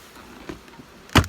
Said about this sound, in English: what I need to do is bang these bees out